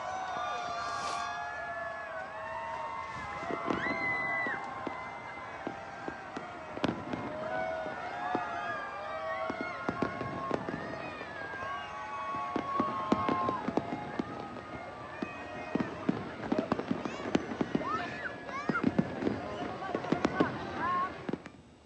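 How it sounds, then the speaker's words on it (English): New Year fireworks at the Burj Khalifa in Dubai, a long run of sharp bangs and crackles, some distant and some close, building in density, with a large crowd murmuring and voices underneath. "Thousands gathered to watch spectacular firework displays at the world's tallest skyscraper"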